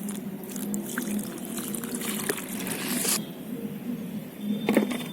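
Fungicide-treated water poured onto a sandy soil mix in a pot for an adenium cutting, a steady soft trickle and splash running for several seconds, close up and fairly quiet.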